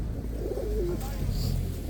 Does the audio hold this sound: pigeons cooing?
yes